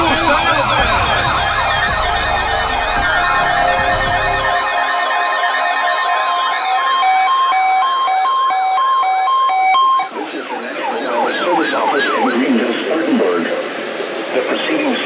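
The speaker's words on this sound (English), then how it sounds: "The preceding signal was a test of weather radio station KJY85's public warning system." A weather radio station's public warning system test alert plays loud and close, with steady electronic warbling tones and sustained beeping attention signals that shift partway through.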